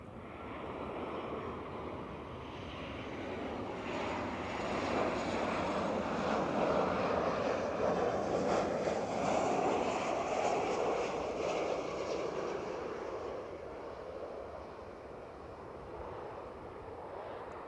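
A Ryanair jet on the Budapest flight lands at Edinburgh Airport, its engine roar swelling to a loud peak mid-clip, then easing off as it passes close by.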